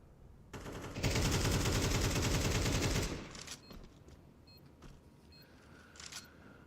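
Sustained Galil rifle fire from Counter-Strike roars in one loud continuous burst lasting about two seconds, followed by quieter scattered game shots and clicks, with no talk.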